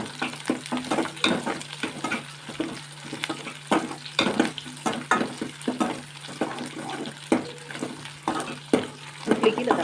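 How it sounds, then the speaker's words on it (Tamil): Onions sauté in a pan with a steady sizzle. Repeated scraping stir strokes come at an irregular rhythm, close by and fairly quiet. "வெங்காயம் நல்லா வதங்கிடுச்சு."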